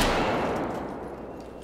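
A shotgun blast in Battlefield 4, a loud close burst opening sharply and then decaying into a long rumbling tail that fades away.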